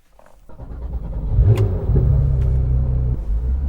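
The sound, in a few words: Porsche 911 GT3 991.2 accelerating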